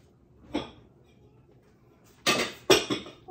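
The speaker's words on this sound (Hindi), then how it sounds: "बर्तन ड्राई करने वाले हैं इनको ड्राई कर लेते हैं" Dishes and pots are handled while being dried, giving a faint clink followed by several sharp, close clatters of metal and crockery.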